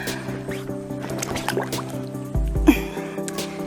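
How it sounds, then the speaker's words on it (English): Water drips and trickles steadily from a leaking quick-set pool cartridge filter with a low mechanical hum, punctuated by small splashes and a brief gurgle. "water's leaking out of there in the meantime"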